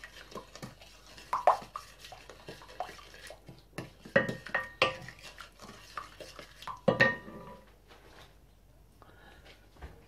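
A spoon stirring and mixing rice ingredients in a pot, with intermittent scraping and clinking strokes close by, some louder bursts midway, over a quiet background.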